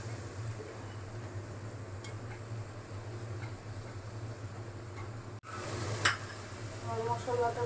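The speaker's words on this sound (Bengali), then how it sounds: "এখন মশলাগুলো দিয়ে দিলাম, ভিজানো মশলাগুলো। মশলাটা কষানো হোক।" Soaked spices frying and being stirred in a pan for a fish curry, a steady low sizzle with occasional utensil scrapes and a brief louder clatter near the end.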